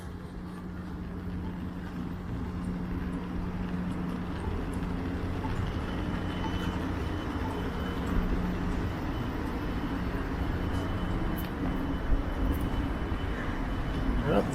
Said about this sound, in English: It's a GO train passing in the distance.